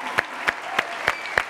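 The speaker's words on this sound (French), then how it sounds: "On va applaudir sa mémoire." During a studio music show, hands clap in tribute to a departed artist: five sharp, evenly spaced claps over a faint background.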